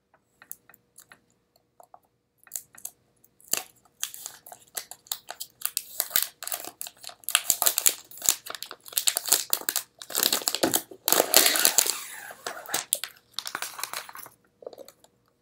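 Apple Watch Sport packaging being unwrapped, with irregular crinkling and tearing bursts that build from sparse ticks into dense, close rustling, then taper off near the end.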